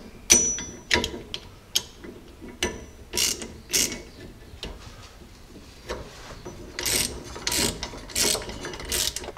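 Ratchet driving an 11/16 nylon lock nut on a Jeep sway bar disconnect, a series of sharp clicking bursts in uneven runs, close and fairly loud with no talk.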